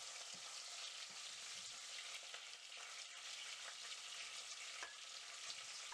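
Spices and four or five green chillies frying in a pan for green jackfruit curry, a faint, even hiss of hot oil running throughout, steady and unbroken, with no voices.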